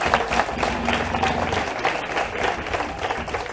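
Sustained applause from an audience for a group of young boys at a children's day community event, steady dense clapping throughout with a faint murmur of crowd voices beneath.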